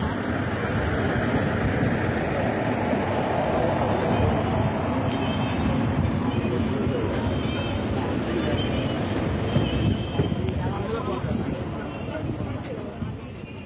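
A passenger train running just after departing Madurai Junction, heard from on board as a steady, loud broadband rumble that continues throughout with no let-up.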